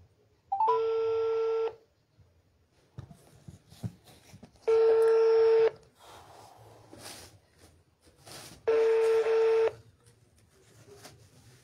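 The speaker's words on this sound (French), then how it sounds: "je vais appeler notre camarade et je vais lui poser quelques questions" A telephone call rings out with three long, evenly spaced electronic tone bursts of about a second each, loud and steady, separated by quiet gaps with faint background rustle.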